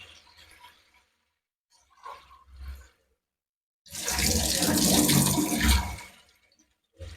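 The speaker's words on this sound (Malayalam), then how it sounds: "ഇനി വരുന്നത് നമ്മളെ ഫിൽറ്റർ ചെയ്ത വെള്ളം ഉണ്ടാവും" Filtered water runs from the outlet of a household water filter used on muddy water. A few short splashy bursts come first, then a louder sustained gush lasts about two seconds before it stops.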